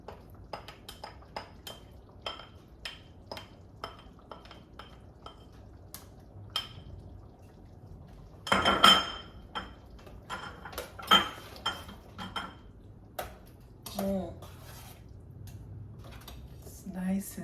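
Vegetables go into a pot of chili. There are scattered clinks and scrapes of a utensil against the pot, a brief louder burst of stirring and sliding food midway, and light background noise.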